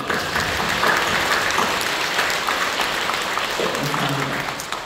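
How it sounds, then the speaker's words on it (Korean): A congregation at Incheon Full Gospel Church claps during a worship service, producing sustained, dense applause at a steady level that tapers slightly toward the end. "하나님께 우리 주님께 감사 영광의 박수를 드립니다."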